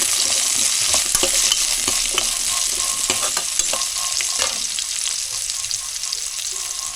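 Masala paste and a few coconut pieces fry in a pan of mutton curry, giving a dense, close sizzle with crackles and stirring clatter that gradually softens toward the end.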